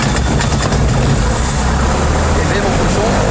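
A small plane's engine runs loud and steady at close range, a continuous low roar filling the whole stretch with no pauses.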